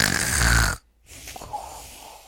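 A voice imitates the cartoon snore of Goofy: a loud, rasping inhaled snore lasting under a second, followed by a brief silence and then softer breathy, snorting noises.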